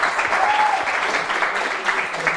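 Studio audience applauding during a French student quiz show, a steady dense clatter of many hands clapping throughout, fairly loud, with a faint voice mixed in.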